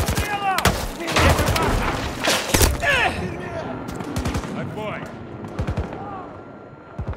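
Automatic gunfire on Battlefield 2042's Valparaiso map in hardcore mode, rapid close bursts and scattered shots with a few distant volleys, under a man's brief speech.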